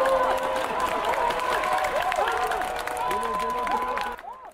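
A crowd at a memorial applauds and cheers in acclamation, steady clapping and raised voices carried along beneath talk, then cut off abruptly at the end.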